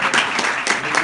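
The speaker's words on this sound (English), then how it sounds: "Give a big round of applause for Tim Dingle." A short burst of audience clapping at a business club launch party. It is fairly loud and dense and lasts about a second, with no talking on top.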